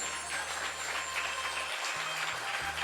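An audience at a devotional discourse on Aja Ekadashi applauds in a steady wash of clapping, with a low droning musical hum sustained underneath.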